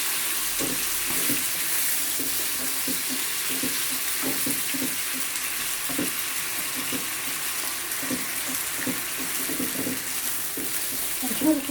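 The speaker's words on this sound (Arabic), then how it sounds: "كتاخذوا الكميه اللي عندكم ديال الدجاج، غنوضعوا في المقلاة" Cubed chicken breast frying in a pan, a steady hiss of sizzling fat with scattered clinks and scrapes of stirring, continuous and close with no talking.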